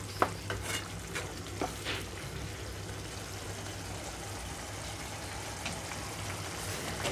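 Amaranth leaves, tomato and chana dal curry cooking down on a stove at medium flame, giving a steady soft bubbling sizzle with a low constant hum and a few faint clinks of a stirring utensil early on.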